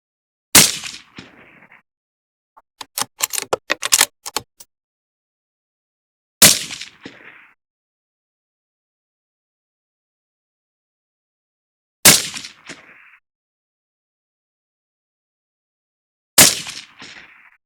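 Rifle shots firing 6mm ARC ammunition, four sharp loud reports spaced several seconds apart, each with a short decaying echo, plus a quick burst of clattering metallic clicks between the first and second shots.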